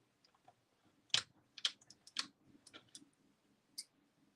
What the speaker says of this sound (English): Just rocking the craft knife backwards and forwards.